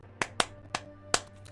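Five separate hand claps ring out at uneven intervals, sharp and close, with quiet gaps between them and a low steady hum beneath.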